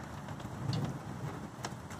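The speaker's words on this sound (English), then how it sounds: "It's really pouring out water there." Heavy storm rain pours down steadily as a dense, even hiss with faint patters, fairly quiet and with no voices.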